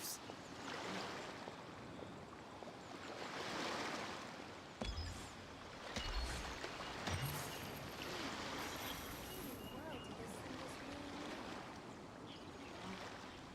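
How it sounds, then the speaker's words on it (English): Ocean waves in Genshin Impact wash steadily as a broad, soft surf hiss, fairly faint and continuous, with a couple of brief low thumps near the middle. "The sound of the ocean waves."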